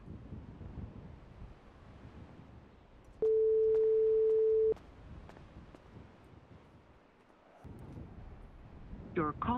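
A steady single-pitch phone ringback tone sounds once for about a second and a half, moderately loud over quiet background noise in a game roleplay setting, with a voice stirring near the end.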